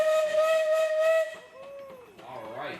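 A Case steam traction engine at a Sycamore steam show gives one loud, sustained whistle blast with a steady harmonic tone for over a second, then a lower wavering second blast that bends up and down in pitch.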